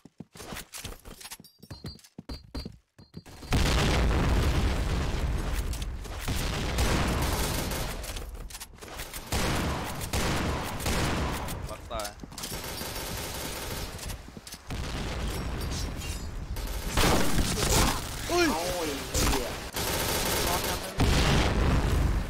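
Gunfire in the online shooter game Point Blank, repeated shots and bursts over a dense, busy game soundscape, with voices occasionally talking over the action.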